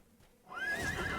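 A horse in the game Dungeons and Dragons Online lets out a single short whinny, rising in sharply after a quiet moment and ringing clearly to the end.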